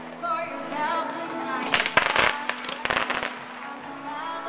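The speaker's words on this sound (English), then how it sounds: "Little firework, military appreciation night." Small fireworks pop and crackle in a few sharp bursts at a minor-league baseball game's military appreciation night, heard over a murmuring stadium crowd and faint voices.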